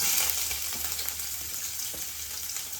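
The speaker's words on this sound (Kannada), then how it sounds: "ನಾನೆಲ್ಲ ಏನು ಐಟಮ್ ತೊಗೊಂಡಿದ್ದೀನಿ ಅದನ್ನೆಲ್ಲ ಎಣ್ಣೆಗೆ ಹಾಕಿ ಫ್ರೈ ಮಾಡೋಣ" Ingredients frying in oil in a pan give a continuous crackling sizzle with faint stirring taps, close and steady throughout, no talking.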